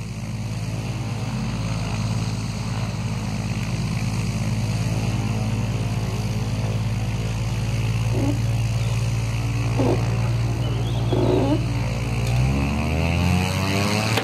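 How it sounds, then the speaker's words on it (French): A propeller airplane takes off, its engine drone loud and steady throughout, rising and shifting in pitch near the end as the aircraft climbs away. "Le décollage, c'est une phase intéressante."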